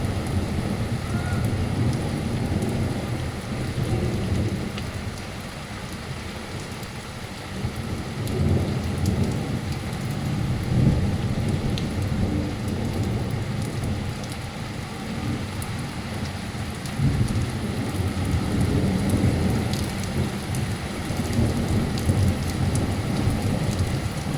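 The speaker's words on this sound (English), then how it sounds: "That's one of the most impressive thunderstorms I think I've ever seen." Heavy thunderstorm over Anstey with rain and hail pounding steadily on surfaces, punctuated by rolling rumbles of thunder throughout, loud and continuous with no talk.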